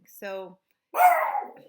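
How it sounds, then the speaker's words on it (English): A pet dog indoors gives a short whining yelp followed by a louder bark, two close separate sounds with a brief gap, while a person starts to speak nearby. "If you hear a dog barking in the background,"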